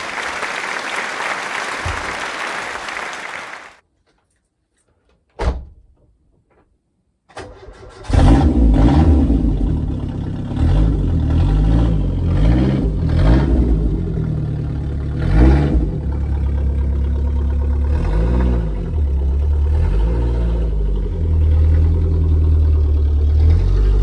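A car engine starts and settles into a steady drone as the car pulls away on a test drive after repair work, with rising and falling engine notes of acceleration continuing close and loud to the end.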